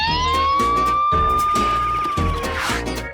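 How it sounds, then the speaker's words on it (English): A loud ambulance siren wailing with a long, slow rising and falling tone over a steady rhythmic background beat. "This one is an ambulance."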